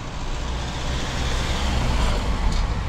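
A van drives past on a tarmac road, a steady broadband rumble of engine and tyre noise that holds fairly close and loud throughout, with no talk over it.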